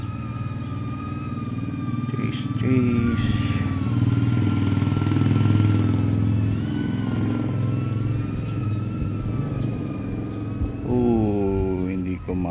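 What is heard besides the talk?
motorized tricycle engine passing by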